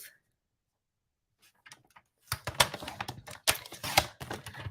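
Card stock sliced on a paper trimmer for a Coffee with Friends card, a near run of quick, dry clicking and scraping cuts after a quiet start.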